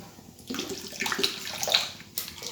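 Water pours into a bowl of flour while momo dough is being mixed at home, a few short splashing gushes with pauses between them, close and fairly quiet with no talking.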